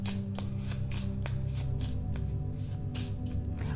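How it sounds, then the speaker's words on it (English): Tarot cards are shuffled in a quick, rhythmic series of crisp riffling flicks over a steady low background hum, with no talking. "before I even finish shuffling"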